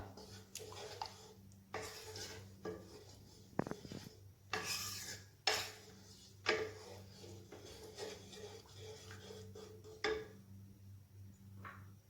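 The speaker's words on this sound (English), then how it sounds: "And give it a nice stir." A spoon scrapes and rubs against a pot while tamarind water is stirred into South Indian sambar, in irregular rasping strokes with a few clinks, fairly quiet and with no speech.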